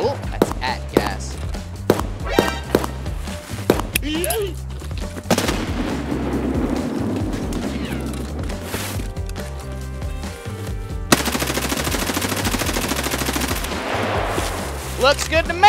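Rapid gunfire bursts from Escape From Tarkov, sharp automatic volleys and single shots stacking into dense, loud firefights that run nearly the whole stretch, with a voice speaking intermittently over the shooting.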